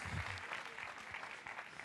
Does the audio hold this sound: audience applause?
yes